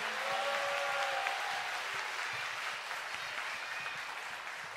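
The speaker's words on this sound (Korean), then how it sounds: "다시 한번 받으신 분들께 큰 박수 부탁드립니다" Audience applause at a Valentine's Day musical-versus-opera concert, a steady dense wash of clapping that holds evenly for several seconds before easing slightly, with some faint tonal sound beneath.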